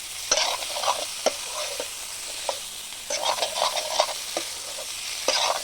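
Pulao rice with chopped tomatoes sizzles steadily in a pan while a utensil scrapes and stirs it in irregular strokes, close and fairly loud.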